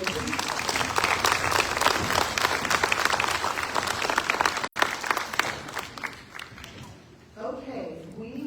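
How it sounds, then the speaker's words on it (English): A crowd claps in dense, sustained applause at a school student-of-the-month ceremony in Ukiah Unified School District, then the clapping thins out and fades near the end, with a few voices under it. "Let's give a round of applause for all of those businesses"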